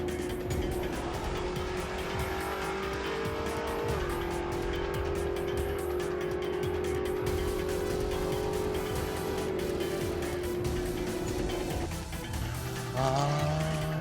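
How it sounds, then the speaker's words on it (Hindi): Rally car racing along a dusty rallycross track, its engine a loud sustained drone that holds a steady pitch, then drops as it shifts and revs again near the end, close and continuous with no voices. "धूल उड़ाती हुई और फर्राटे भरती हुई ये गाड़ी"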